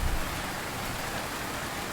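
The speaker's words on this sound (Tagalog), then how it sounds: "Medyo Malakas lang po yung ulan." Heavy rain pours down in a dense, steady roar with no pauses, loud and close, drumming across surfaces without any voices.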